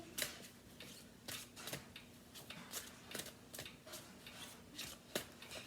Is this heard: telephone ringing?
no